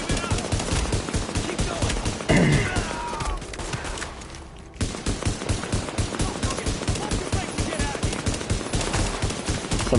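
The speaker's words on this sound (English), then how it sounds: "So I'll go ahead and kill these enemies" Video game gunfire as enemies are killed: rapid automatic bursts fire almost continuously, loud and close, with a short lull in the middle before shooting resumes.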